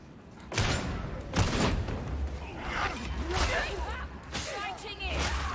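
Rapid gunfire and whooshing blasts from the video game Warhammer 40,000: Darktide crackle in bursts through the scene, with someone talking over the shooting.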